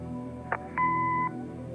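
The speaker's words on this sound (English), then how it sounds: "Leave a message after the beep." A single answering machine beep from the Kathy Rain video game: a short tone blip, then a sustained steady electronic beep lasting about half a second, clear over a quiet hum.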